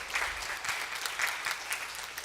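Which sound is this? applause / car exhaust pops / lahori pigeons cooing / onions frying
applause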